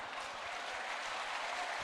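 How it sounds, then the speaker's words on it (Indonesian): Audience applause, a dense continuous clapping from a crowd at a talk on crypto regulation, loud and even throughout the short burst. "Kasih tepuk tangan dulu Pak."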